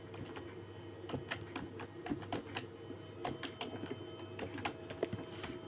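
Fingers tap on a computer keyboard in a quick, irregular run of light clicks, fairly close, over a low steady hum with no talking.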